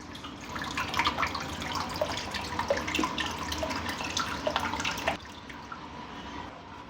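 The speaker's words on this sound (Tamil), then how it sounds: "ஃபில்டர் பாருங்க, தண்ணி சவுண்டு அழகாக இருக்கு இல்லைங்களா?" Steady broadband rush of running water from a water filter tap pouring into a container, continuous for several seconds before dropping slightly near the end.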